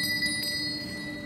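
A bell in the Elden Ring video game rings with sustained, steady tonal ringing throughout the short moment, heard alone without talk.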